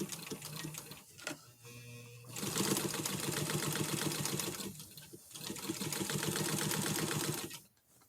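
A sewing machine stitches along an old, worn sheet being mended. Two long, steady runs of rapid mechanical clatter, briefly paused between them, sound up close with no voices.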